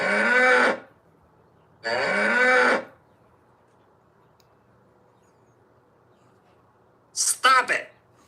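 A cow lowing loudly and close, two long moos a second apart followed by a shorter broken grunting call after a pause, with near silence between.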